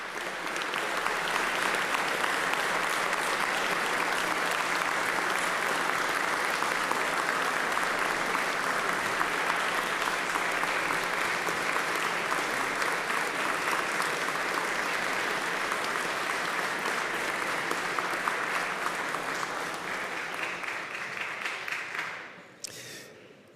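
An audience in the Pennsylvania House of Representatives chamber applauds, sustained loud clapping that holds steady for about twenty seconds before tapering off abruptly.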